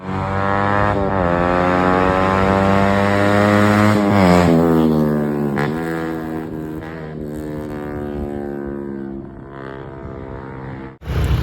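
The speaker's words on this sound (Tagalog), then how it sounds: "Mas lumakas yung motor at mas maganda yung tunog, malutong." A remapped motorcycle engine with a custom elbow exhaust revs loudly up close, its pitch climbing and falling through several throttle blips before cutting off abruptly near the end.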